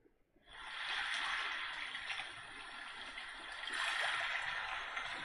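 Recorded ocean ambience fades in after a short quiet start, a soft, continuous hiss of surf with a gentle swell near the end, low in level and without speech.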